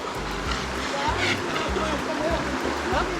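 The Santa Barbara waterfall in Chapada dos Veadeiros pours in a steady broadband rush close by, with people talking over the roar.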